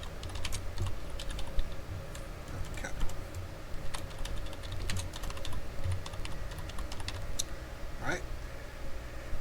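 Rapid, irregular clicking of keys on a computer keyboard, steady typing throughout with a low background hum and faint murmur.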